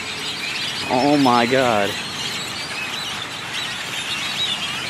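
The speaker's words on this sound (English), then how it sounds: "Attack of the birds." A flock of large birds calls noisily in a dense, continuous chorus, with a nearby voice briefly exclaiming over it.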